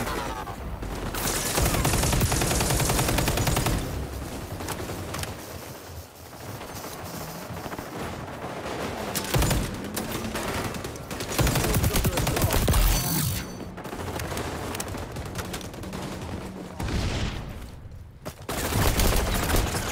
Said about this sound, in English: But he's shooting me through the wall.